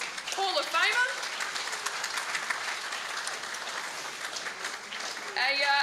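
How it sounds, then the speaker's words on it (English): Audience applause at a sports awards night, a dense steady wash of clapping throughout with a host's voice speaking over the start and end. "Everyone give him a round of applause."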